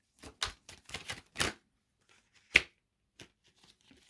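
Tarot cards being shuffled in a quick run of crisp riffling bursts, then a pause and a single sharp snap as one card flips over, followed by a few faint soft taps.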